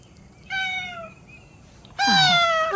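A cat meows twice, first a medium drawn-out mew, then after a pause a louder, rising, slightly strained meow, close and clear in a quiet setting with no talk.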